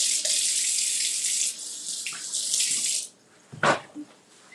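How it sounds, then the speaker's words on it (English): A newly installed gooseneck kitchen faucet runs loudly and steadily while hands are washed under it for about three seconds, then shuts off, leaving a few quiet clunks and a brief splash. "Washing my hands again."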